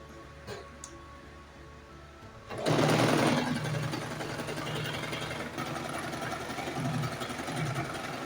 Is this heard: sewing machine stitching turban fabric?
yes